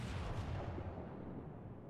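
Naval gunfire from a World of Warships battle with a Warspite battleship, incoming shells striking, heard as a deep rumbling boom that rolls and slowly fades.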